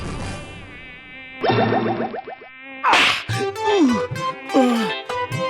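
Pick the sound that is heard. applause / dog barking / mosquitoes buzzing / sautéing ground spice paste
mosquitoes buzzing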